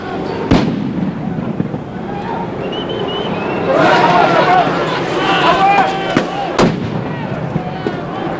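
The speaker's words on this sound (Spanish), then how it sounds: "los jóvenes encapuchados lanzaron petardos y rocas a los uniformados" Firecrackers thrown by hooded youths at police during a street protest clash on Avenida Hidalgo, heard as a few sharp bangs scattered over crowd noise and shouting voices.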